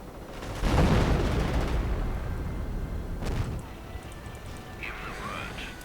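Rocket artillery booms in a World War II strategy video game: two heavy blasts with rumbling tails, one early and one midway, under a commentator talking.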